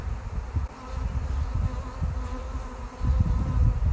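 Honey bees swarm over comb cells brushed with spilt honey, a dense, steady buzz up close, continuous throughout with no voices.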